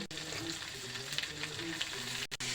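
Ground ginger, garlic, onion and tomato fry in an oiled pan for a village-style potato and pea curry, with a continuous close sizzle, stirring scrapes and a faint voice talking underneath.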